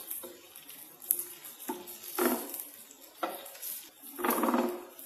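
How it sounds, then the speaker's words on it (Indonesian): Fried rice noodles with shredded chicken and meatballs are stirred in a non-stick wok, giving soft scraping and clinking strokes in several bursts over a quiet sizzle, close and without talk. "Kita aduk kembali."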